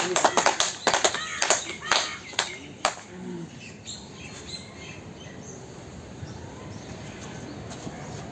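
A few scattered handclaps from an audience at a Guru Purnima yoga gathering ring out sharply for about three seconds, then fade into a low, steady murmur of room noise.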